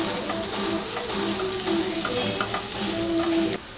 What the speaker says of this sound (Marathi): लाल मसाला, हळद, कोथिंबीर परतून घेऊया चांगलं